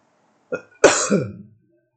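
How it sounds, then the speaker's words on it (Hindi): One person with a cold coughs close by: a short light cough, then a longer, harsher hacking cough. "सर्दी के वजह से थोड़ा खांसी हो रहा है"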